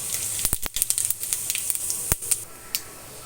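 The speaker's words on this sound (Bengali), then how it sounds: "গোটা জিরে ফোড়ন দিয়ে দেব" Whole cumin seeds sizzling in hot oil for a soybean dish, a steady hiss broken by sharp pops and crackles, loud and close, with no voices.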